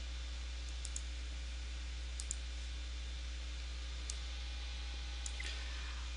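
Computer mouse clicks in a quiet office, a handful of faint, sharp single and double clicks spaced a second or two apart over steady low hum.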